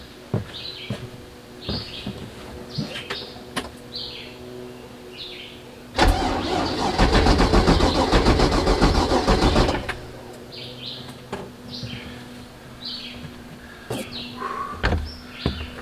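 A car engine cranks and catches with a loud, dense roar lasting about four seconds, then drops away, with birds chirping faintly in the background before and after.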